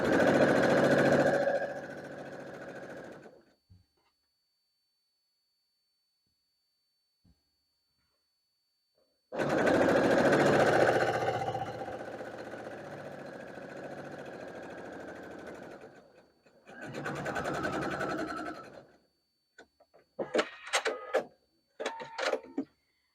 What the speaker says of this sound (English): sew right down the other side